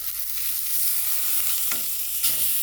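A steak searing in a hot pan gives a steady loud sizzle, with a few soft scrapes and clicks as it is nudged and flipped at the edge.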